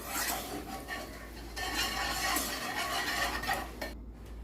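Steady, close scraping and clinking of a utensil against a pot as custard powder is stirred continuously into milk for Nawabi semai, a dense rasping rhythm that cuts off abruptly near the end.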